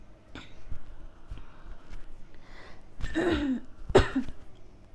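A person with a cold coughs and clears their throat while waiting at a Covid-19 testing site, with two harsh, close bursts after quieter rustling and breathing.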